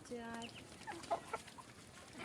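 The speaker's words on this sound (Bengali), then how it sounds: "লাল মোরগটা চলে এলো আবার" Chickens cluck softly amid a murmur of background noise, with a brief rooster-like call at the start.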